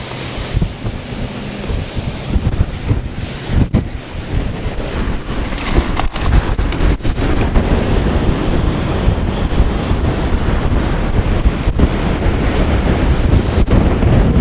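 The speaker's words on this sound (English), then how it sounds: "Windy." Strong wind on an agate-hunting hillside climb, roaring loud and constantly across the microphone in heavy buffeting gusts, with a few sharp knocks early on.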